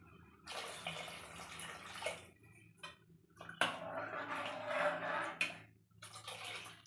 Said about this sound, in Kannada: ಇವಾಗ ಜಾರ್ ತೊಳೆದು ನೀರು ಹಾಕ್ತಾ ಇದ್ದೀನಿ